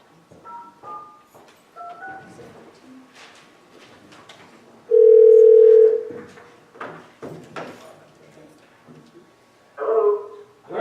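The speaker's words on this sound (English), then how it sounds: "Sorry, we gotta call Cooper back." Telephone tone sounds during a council meeting call: a steady loud tone of about a second, then a shorter burst, with scattered voices and room noise around them.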